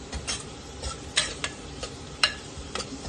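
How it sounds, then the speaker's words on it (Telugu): Egg biryani gravy masala frying in a pan while a spoon scrapes and taps against the metal in irregular clinks over a low, faint sizzle. "సో ఇది ఒక 2 మినిట్స్ ఇలానే వేయించాలి"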